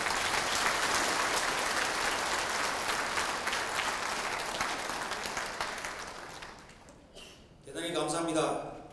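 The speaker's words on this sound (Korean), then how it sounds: "다 함께 큰 박수로 서로 환영의 박수를 보내주시기 바랍니다" Audience applause at a campaign rally tour event in Busan, a dense, loud burst of clapping that fades over several seconds before a voice begins speaking near the end.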